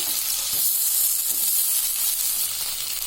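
Seer fish (surmai) coated in semolina frying on a tawa over low to medium flame, a steady bright sizzle running unbroken through the whole stretch, fairly loud and close with no voices.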